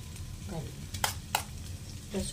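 Garlic and potatoes sauté quietly in a pan, a soft sizzle punctuated by a couple of sharp spatula scrapes and light stirring, fairly faint overall.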